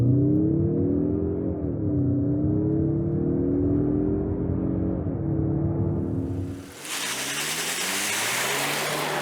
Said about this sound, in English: The turbo engine is not a loud and proud sort of hot rod power plant.